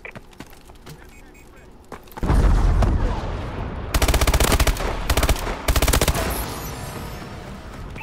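A Vulcan killstreak laser in Call of Duty Advanced Warfare blasts loudly after a quiet start, a dense roaring burst followed by several sustained rapid-fire bursts, with faint gunfire and game announcer voices in the background.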